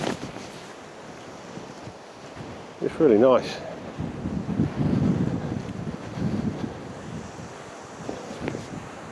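Wind buffets the microphone on a hilltop on Black Hill near Addingham in the Yorkshire countryside, a steady rushing roar with gusts. A person speaks briefly partway through.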